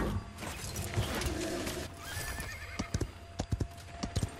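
In the Paladins video game, a horse whinnies, then hooves clip-clop in quick, crisp bursts, close and clear against faint game ambience.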